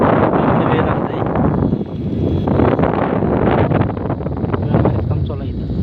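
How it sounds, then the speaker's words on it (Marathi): Strong wind buffets the microphone at an outdoor gravel-removal work site, a loud, steady roar of gusting noise that runs through the whole span with no clear pauses. "वाऱ्याचं प्रमाण जास्त असल्यामुळे"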